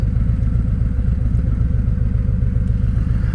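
A motorcycle idles on a gravel road, a loud, close, steady low engine rumble with an even pulsing throb and no break.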